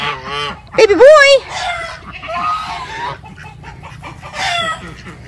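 Backyard poultry, ducks among them, give loud honking, squawking calls in several bursts close by, with a sharp cluster near the start and softer calls trailing after.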